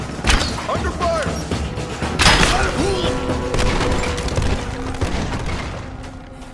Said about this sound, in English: Under fire!